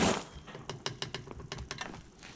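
A ratchet wrench clicks in quick irregular bursts while loosening the propeller nut on a boat outboard motor's lower unit, close and fairly loud, with no talking.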